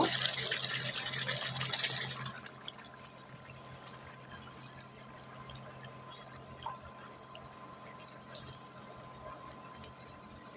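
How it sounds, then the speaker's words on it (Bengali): Two cups of water pour into a pot of beef for haleem in a short, bright rush, then quiet to a low, steady liquid murmur with a few faint drips. "আমি দুই কাপ পরিমাণ পানি অ্যাড করে দিয়েছি"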